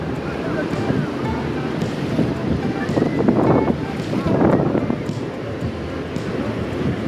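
Sea waves wash steadily onto Panambur beach in Mangalore, a continuous rushing surf with gusts of wind buffeting the microphone, swelling in the middle of the stretch.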